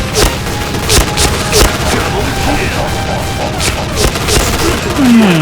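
Rapid sustained full-auto bursts from an automatic shotgun in a shooting video game, dense repeated blasts running through the whole stretch with a rising synthetic tone near the end.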